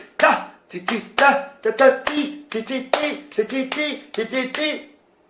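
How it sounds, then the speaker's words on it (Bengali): Kartal hand cymbals played in Khemta taal, a string of crisp clacking strokes in grouped rhythmic bursts, close and loud with brief gaps between. "আমি যখন করতাল এরকম করে বাজাচ্ছি"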